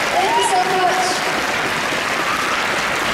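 Applause from a comic fest panel audience, a dense, even wash of clapping that keeps going for about three seconds, with a faint whistle rising over it early on.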